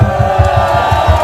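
A crowd gathered for an outdoor talk show at Chuncheon's folk market claps and cheers in a loud, steady rhythm. The claps pulse evenly, with crowd noise running throughout.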